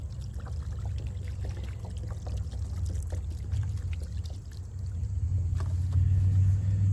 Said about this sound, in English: I brought some water in a jug.